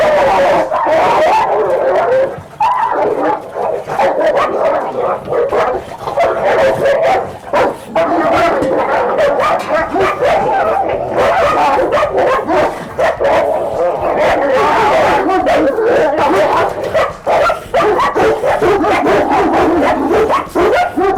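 Large Kyrgyz guard dogs bark loudly and continuously in close, overlapping bursts with some yips and whimpers, alongside someone talking.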